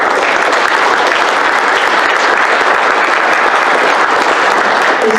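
Evening audience at a livestock symposium gives loud, sustained applause, with dense, even clapping filling the whole stretch at close range.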